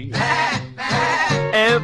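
Three long, wavering goat bleats, each nearly half a second, sound loud and close in a song.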